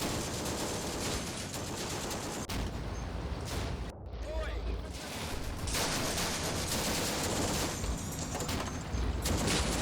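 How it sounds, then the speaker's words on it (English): Anti-tank weapon fire in the World War II game Combat Mission: Afrika Korps, heard as dense, continuous blasts and rumbling gunfire under a constant din of battle noise, with a brief dropout partway through. "Some kind of anti-tank weapon."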